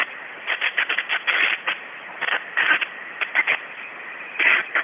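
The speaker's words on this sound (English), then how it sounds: "we're going to let him wait for the train to go through" A train rolls past near a high school football field during a game, its rumble and rattle coming in uneven surges and bursts, fairly loud and fairly close, with no voices over it.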